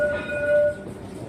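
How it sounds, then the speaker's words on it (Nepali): A metro train arrives at a station in Mauritius, a close rumble with a high tonal squeal or horn-like whine that fades after about a second. "अहो, मेट्रो पनि आइसक्यो।"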